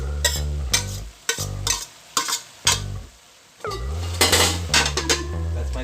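A brown rice and barley mix is stirred into chicken fried rice in a hot pan, with a utensil scraping and clinking against the metal in short bursts over a steady sizzle and one brief pause.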